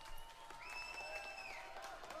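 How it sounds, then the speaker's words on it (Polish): Quiet crowd applause from an audience at a dance marathon, a soft continuous patter of many hands heard from a distance, overlaid by a faint sustained whistling tone that rises and then fades. "Proszę państwa, wielkie brawa."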